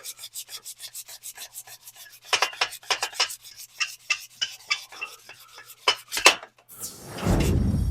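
Sandpaper of 320 grit rubs back and forth over classic antique car trim, a steady rhythmic rasp of close strokes that quickens midway, ending in a louder burst of broadband noise.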